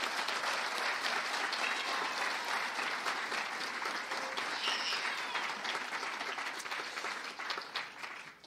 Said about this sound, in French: On peut maintenant les applaudir, s'il vous plaît.